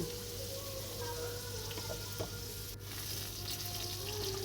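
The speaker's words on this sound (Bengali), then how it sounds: "এদিকে আলু ভাজা ভাজা হয়ে গেছে" Potatoes fry in a pan in a village home kitchen, with a continuous even sizzle and a few small clinks and stirring sounds, heard fairly near with no voices.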